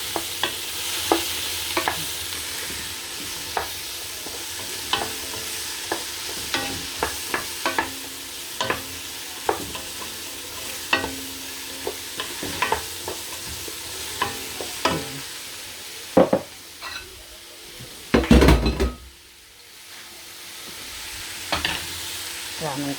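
Spring roll vegetables with chili being stirred and tossed in a frying pan, steady soft sizzling under repeated scraping strokes of a utensil, with a louder clatter near the end.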